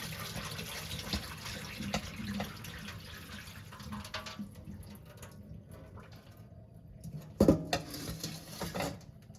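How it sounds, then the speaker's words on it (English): Water trickles and drains through a strainer from orchid roots with splashy patter, ending in a couple of louder sloshes and clinks close by. "I'm going to strain this and get as much water off of it as I can"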